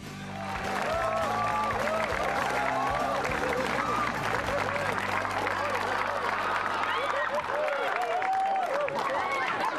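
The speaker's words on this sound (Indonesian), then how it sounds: "saya belum bikin apa-apa udah tepuk tangan ya" A stand-up comedy audience applauds throughout, a dense, loud wash of clapping from a large crowd, with a voice speaking over it near the start.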